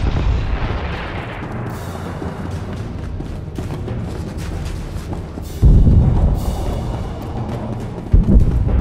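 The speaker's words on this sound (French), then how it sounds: "Bombe larguée!" A bomb drops and explodes in Star Wars: The Old Republic, over Ilum: a steady engine-like rumble breaks into a deep, loud blast, and a second boom comes shortly after.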